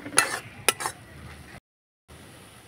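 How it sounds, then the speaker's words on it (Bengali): Spoon scraping and stirring a sweet potato laddu mixture in a pan: a few sharp scrapes and clinks near the start, then quieter stirring, a brief silent gap, and a faint continuation. "ভালো করে আমি মিশিয়ে নিব।"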